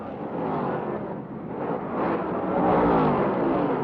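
A 1969 Ford and a 1970 Plymouth stock car racing at Atlanta, a loud sustained engine roar that swells and fades as the cars pass, with no talk over it.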